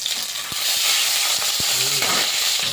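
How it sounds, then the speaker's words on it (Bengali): Oil sizzles in a wok set up for frying fish. A continuous close hiss carries a few light clicks and knocks throughout. "এবার রান্না হয়ে মাছ ভাজার জন্য কড়াই বসিয়েছি"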